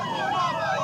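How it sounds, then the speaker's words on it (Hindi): An ambulance siren wails loud and close amid a student street protest at Allahabad University, its rising and falling tones sweeping through a short burst. "एक एम्बुलेंस आ रही थी जिसके लिए रास्ता जो है छात्रों के द्वारा दिया गया।"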